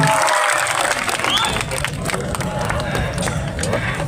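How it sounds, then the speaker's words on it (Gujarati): A rally crowd applauds and cheers to welcome new members joining the Aam Aadmi Party at a public meeting in Gujarat. The dense clapping is loud and continuous, with some shouting in it. "ત્યારે જોરદાર તાળીઓથી વધાવી લઈશું"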